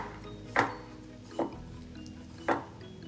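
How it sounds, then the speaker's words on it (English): Knife cutting ingredients into thin slices on a board for sesame noodles: three separate crisp chopping thuds, close and fairly quiet, with pauses between them. "So again, I'm going to make thin slices."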